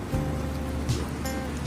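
Steady hiss of rain falling at a house under construction, even and continuous for a short stretch with no voices.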